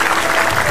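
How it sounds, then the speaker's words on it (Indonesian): Studio audience applause on an Indonesian comedy talk show, a brief, loud, continuous burst of many hands clapping at once. "kasih tepuk tangan untuk yang individu"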